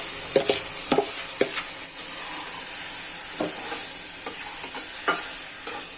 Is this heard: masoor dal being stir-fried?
yes